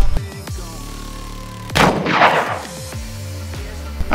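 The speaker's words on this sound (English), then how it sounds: "I'm just gonna shoot some standard 9mm at it right now." A single loud, close 9mm pistol shot from a Walther PDP fired at concealable body armor, a sharp crack followed by a rolling outdoor echo, with no talking around it.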